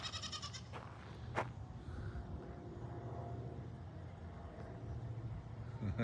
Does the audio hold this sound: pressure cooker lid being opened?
no